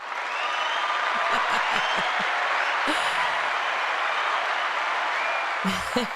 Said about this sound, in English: let's give a big round of applause to Jasmin Cardenas